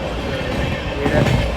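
Loud, continuous rumble of a train rolling on rails, with a steady clattering roar heard from inside the carriage.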